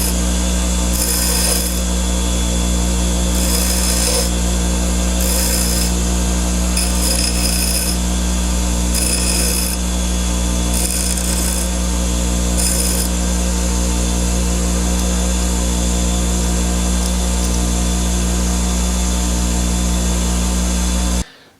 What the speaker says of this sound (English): I ended up just using the bench grinder. It's just quicker and easier